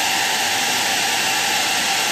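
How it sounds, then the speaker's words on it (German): A handheld hair dryer blows steadily and loudly while styling hair, a continuous broad rushing airflow with no pauses and no talk over it. "Aber jetzt guck mal, was passiert, wenn ich den Föhn dazu nehme. Achtung, jetzt wird es etwas lauter."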